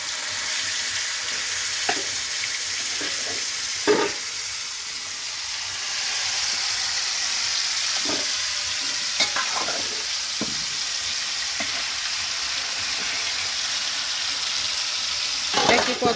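Chicken pieces fry in oil for a village-style chicken tawa, a steady sizzle broken by several louder bursts and stirring clatters as pieces go in and get turned; no talking.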